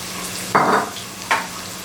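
Finely chopped medium onions frying in 200 grams of butter, two short bursts of sizzle rising over a steady low hiss, close and moderately loud.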